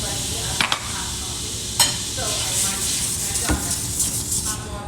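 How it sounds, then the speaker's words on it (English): Tomato is stirred into reduced white wine on an induction cooktop, giving a steady soft sizzle with a few sharp clinks and scrapes of a utensil against the pan. "Let's go ahead and put that tomato in there."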